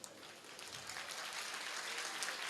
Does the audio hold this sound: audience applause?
yes